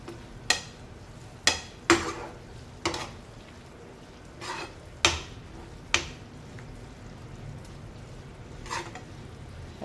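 Onion sautéed in a pan while cooking Schezwan chutney, a spoon scraping and knocking against the pan in sharp irregular strokes over a faint, steady sizzle, close and without talk.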